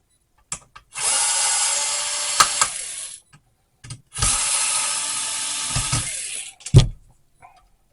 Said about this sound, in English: I've got my T8 Torx screwdriver head, and we've got some screws we're going to take out here.